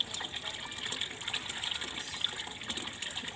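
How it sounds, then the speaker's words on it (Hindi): Water gushing steadily from a fountain set up for monkeys to drink and bathe in the summer heat, a continuous splashing flow heard close, with faint chatter in the background. "ये फुब्बारा चला दिया"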